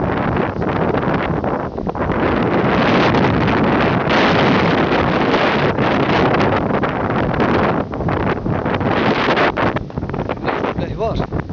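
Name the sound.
strong north wind by the sea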